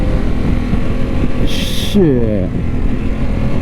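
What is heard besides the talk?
Harley-Davidson Pan America motorcycle accelerating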